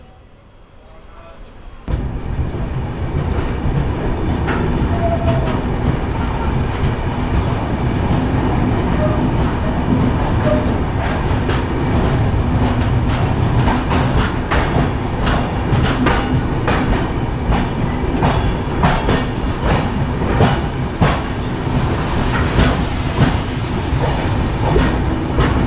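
The 15960 Kamrup Express passenger train, running from Dibrugarh to Guwahati, rolls along with a loud, continuous rumble and rhythmic clickety-clack of the wheels heard up close throughout, with some talk in the background.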